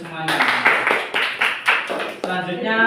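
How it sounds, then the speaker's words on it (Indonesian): Students in a university micro-teaching classroom at UNWAHA give a round of applause, a few sharp clapping bursts close by, mixed with a voice talking over them. "Berikan tepuk tangan untuk semuanya."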